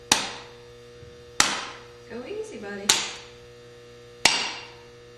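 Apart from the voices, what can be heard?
hammer smashing peppermint candies in a bag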